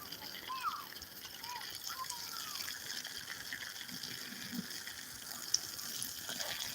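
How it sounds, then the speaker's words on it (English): Water poured over ground to rinse out peanuts, a continuous soft splashing trickle at moderate distance, with faint background sounds and a brief sharp click. "I need to rinse a whole bunch of water over there."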